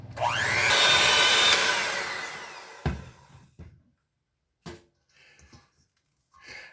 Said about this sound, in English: Now I have to cream this butter until it's pale looking